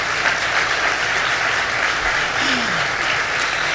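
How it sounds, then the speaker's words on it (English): Audience applause at a morning bill-signing event on gang violence in Brentwood, Long Island, a dense, steady wash of clapping from a crowd that holds evenly loud for the whole stretch. "Now you can applaud."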